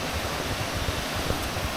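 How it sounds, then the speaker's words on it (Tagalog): Rushing water roars as a constant, dense hiss from the cascading pools of Tanawan Falls, with no voices. "naririnig na natin ang lagaslas ng tubig ng pools"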